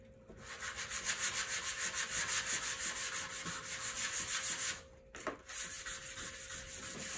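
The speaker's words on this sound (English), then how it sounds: "So I'm just gonna lightly sand that." Light hand sanding over varnish drips on a wooden kitchen cabinet: steady, rhythmic back-and-forth scratchy rubbing strokes, close and fairly quiet, with one brief pause near the end before resuming.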